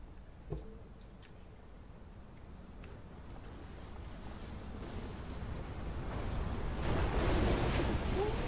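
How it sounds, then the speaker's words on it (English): Water in the video game Outer Wilds: Echoes of the Eye, a low rushing wash that starts faint and swells steadily louder, with a few soft clicks and thumps early on. "I'm hearing water"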